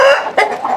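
Free-range chickens clucking in winter at a homestead, a couple of close, loud clucks in quick succession, short and unaccompanied by talk.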